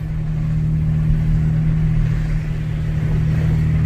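A car fitted with snow tires drives through a snowstorm, its engine and road noise forming a steady, close, low rumble with no pauses.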